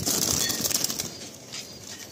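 A Madrasi pigeon bursts into flight with a rapid flurry of wing flaps close by, loud at first and then thinning out as it departs.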